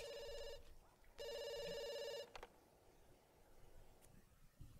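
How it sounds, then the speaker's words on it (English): A telephone in The Sims 2 video game rings with a bright electronic trill in two loud bursts separated by a short pause, followed by quieter game clicks and faint background sounds. "answer the phone."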